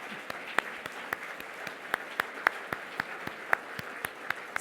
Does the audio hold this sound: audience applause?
yes